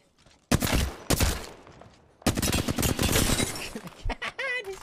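Bursts of rapid gunfire from an Apex Legends weapon in short loud volleys with gaps, then a longer sustained barrage; a voice talks faintly underneath.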